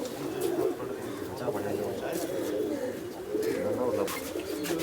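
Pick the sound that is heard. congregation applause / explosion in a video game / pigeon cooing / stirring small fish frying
pigeon cooing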